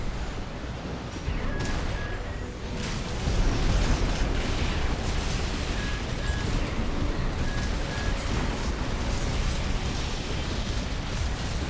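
Missile explosions in Armored Core 6 mech combat, a continuous roaring wall of blasts and rumbling impacts, loud and dense, with faint electronic beeps over the top and no speech.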